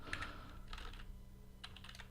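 Rapid typing on a computer keyboard while writing JavaScript code: quick bursts of close, crisp key clicks with short pauses between them, over a steady low background hum.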